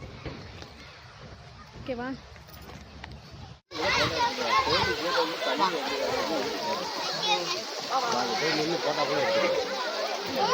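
A stream where people are splashing and playing in the water. Children shout and chatter excitedly over continuous close splashing after a brief quieter stretch with some talk at the start.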